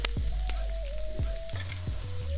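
Tantuni meat fries in butter in a pan over very low heat, giving a steady close sizzle with a few light scrapes of stirring.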